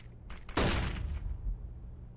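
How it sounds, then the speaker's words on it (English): A flashbang grenade goes off in the game CS:GO during a competitive pro match, a sharp loud burst after a couple of light clicks, trailing into a short fading rumble. "I'm throwing a flashbang."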